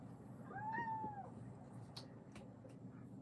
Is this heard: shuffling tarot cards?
no